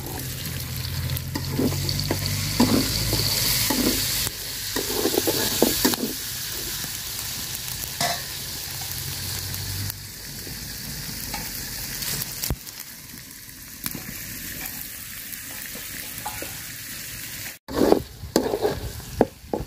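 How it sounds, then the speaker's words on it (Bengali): Chopped onion frying in oil in a pot, a steady close sizzle with occasional stirring scrapes running the whole time, loud and alone with no talk. "পেঁয়াজটা আমি ভাজা ভাজা করে নিচ্ছি।"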